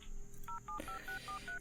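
A rapid run of telephone keypad tones as a number is dialed from a phone booth in the video game Old Gods Rising, about six short evenly spaced beeps over faint background ambience.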